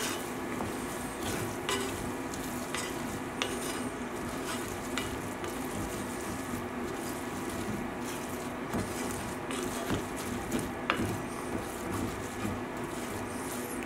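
Vinaigrette with salt and pepper being mixed in a bowl for a feta and herb-crusted salmon with lemon orzo dish: continuous close wet stirring and swishing with occasional light clicks, steady and busy throughout.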